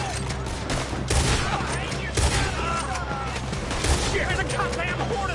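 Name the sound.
gunfire in a Red Dead Redemption 2 shootout, from a video game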